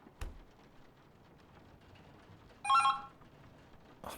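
A single short telephone ring sounds once, fairly loud and bright, in an otherwise quiet room with a soft hiss and a couple of faint knocks.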